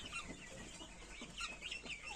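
Hens cluck softly in short, repeated calls, a few birds murmuring nearby over a quiet background.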